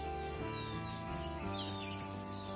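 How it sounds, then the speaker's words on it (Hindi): Morning birds chirp in a thin, faint twitter high above a steady tonal drone and background hum, a few short calls and sweeping notes in open surroundings. "ज़्यादातर टाइम आपको यहाँ पे ना पक्षियों की ना बहुत सारी आवाज़ें सुनने को मिलती है"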